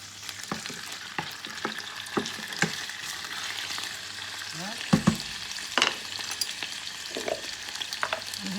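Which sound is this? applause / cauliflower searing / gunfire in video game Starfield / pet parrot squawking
cauliflower searing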